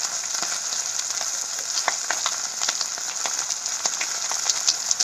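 Okra curry sautés in a pan with a steady, soft sizzle and crackle, with faint stirring scrapes and small pops throughout, close and continuous with no talking.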